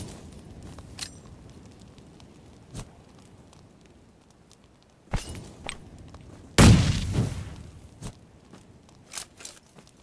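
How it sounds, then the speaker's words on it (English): Scattered gunshots in PUBG Mobile on the Livik map crack out at irregular intervals, some faint and distant, with a louder, sustained burst near the middle and sharp single reports toward the end. "Where are they shooting from?"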